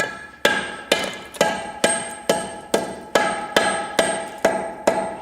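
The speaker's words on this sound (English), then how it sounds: "just a little bit at a time you'll break this out" Regular hammer blows chip away at a soft concrete block, breaking out a notch about half an inch deep; about eleven sharp, loud strikes land at a steady pace, each ringing briefly before the next.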